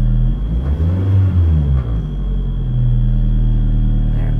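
A 1990 Toyota Camry engine with freshly changed spark plugs is floored, giving a loud, steady, close rumbling roar that rises briefly and then holds at a high idle-like drone.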